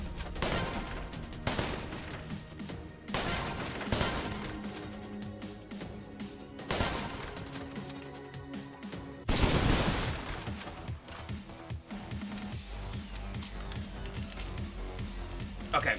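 Repeated gunshots at shooting-range targets in the action game Wanted: Dead, sharp loud cracks in irregular bursts over a busy game soundtrack, with a voice talking throughout.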